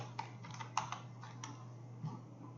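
Computer keyboard typing an ID number and password: a short, quiet run of soft key taps, uneven in rhythm, over a low steady hum.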